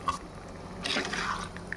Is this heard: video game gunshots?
no